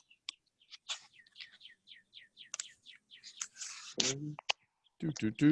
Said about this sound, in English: Chirping with the birds.